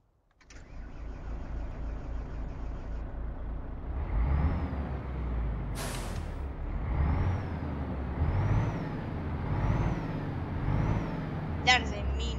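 A Volvo F16 truck in Euro Truck Simulator 2 cranks and starts, then idles with a deep rumble. Revs swell several times, and an air brake hiss bursts partway through.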